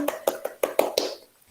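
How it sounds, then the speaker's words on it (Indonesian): A class of students clapping together in a rhythmic pattern, six crisp, evenly spaced group claps close by, ending in a brief fade. "tepuk tangan untuk kita semua"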